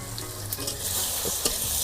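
Leafy greens and drumstick leaves frying in a pan while being stirred, a close, steady sizzle with scraping spatula strokes and a few sharp clinks toward the end, no talking.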